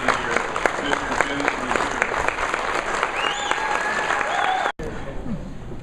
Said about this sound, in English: please stand, and give a rousing applause to our 2012 Bend Chamber of Commerce Citizen of the Year